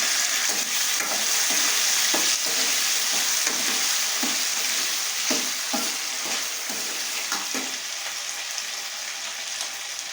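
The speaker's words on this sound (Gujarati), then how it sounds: "હવે આપણે કાચી બટેટું લીધી છે એ નાખી દઈશું, આમાં ચડી જશે, એમ હલાવશું" Raw potatoes are stirred into hot oil in a frying pan for farali khichdi, giving a loud, steady sizzle with repeated scraping stirs throughout and no talking.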